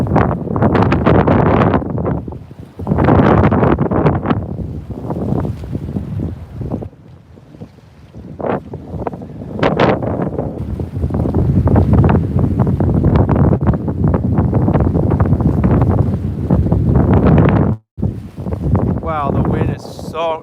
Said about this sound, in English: Wow, the wind is so strong right now.